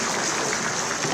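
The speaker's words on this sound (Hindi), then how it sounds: "तालियां बजाते रहिए।" Dense, steady applause from a ceremony audience fills the whole short moment, loud and close with no pauses.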